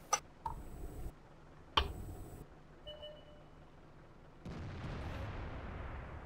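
Tank cannon shots in World of Tanks come as a few sharp, spaced bangs, each with a short ringing tail, followed by a rushing rumble near the end, with no talk.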